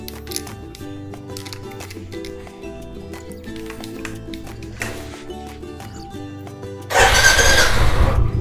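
A Royal Enfield motorcycle engine is started with the clutch pressed and out of gear; a loud broadband burst of the engine catching comes up near the end after quieter mechanical clicks and background sounds.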